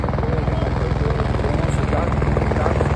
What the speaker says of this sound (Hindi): हमारे पीछे देख सकते हैं आप हेलीकॉप्टर आ रहे हैं।